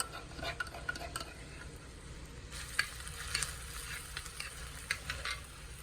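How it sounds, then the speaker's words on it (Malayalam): Crushed ginger and garlic sizzle softly in hot oil for a bitter gourd pickle, with a steady frying hiss broken by occasional stirring scrapes and clicks, no talking. "കുറച്ച് ഇഞ്ചി വെളുത്തുള്ളി ചതച്ചതാണിത് അത് ഇട്ട് കൊടുക്കാം"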